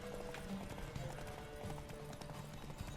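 Horse hooves galloping in Witcher 3, a steady rapid clip-clop rhythm running throughout amid game ambience and occasional snorts.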